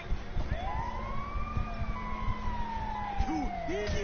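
A wailing ambulance siren in the Grand Theft Auto video game sweeps up and down in long continuous arcs, fairly loud, over a steady low engine drone with game sounds.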